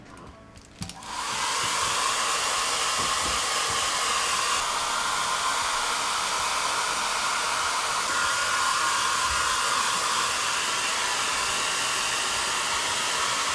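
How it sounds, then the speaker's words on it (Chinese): A hair dryer blows steadily on a freshly made layer of food to dry it, switching on after about a second and then running loud and constant with no talk. "我们要先把它吹干。 要先吹干才可以上第2层。"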